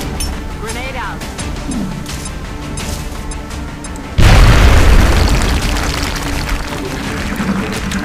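A sudden heavy boom from a grenade going off in the game XCOM Enemy Unknown, a loud burst that fills the mix and slowly decays into rumbling debris, following a stretch of steady game sound and a voice.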